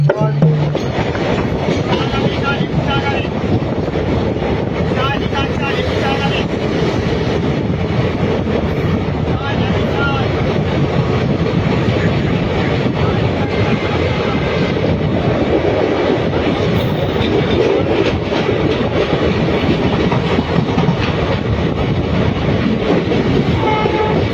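The 13187 up Sealdah–Rampurhat Maa Tara Express pulls into platform 3 at Sainthia Junction with a loud, steady rumble and wheel clatter that fills the whole stretch, with a horn sounding near the start.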